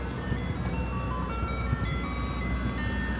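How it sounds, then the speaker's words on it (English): An ice cream truck's jingle plays in West Philadelphia near Fairmount Park: a steady, looping electronic melody that is fairly loud and continuous over street ambience, with no talking. "We got the ice cream truck."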